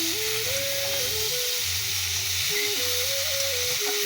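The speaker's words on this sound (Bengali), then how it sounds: "কড়াতে জিরে ফোড়ন দিয়েছে তারপরে আলু ফুলকপি লঙ্কা দিয়ে নুন আর হলুদ দিয়ে দিল এবারে মা একটু এটা ভেজে নেবে" Potatoes and cauliflower fry in a pan with cumin, chili, salt and turmeric, giving a steady close sizzle that runs throughout, with soft tonal hums drifting underneath and no talking.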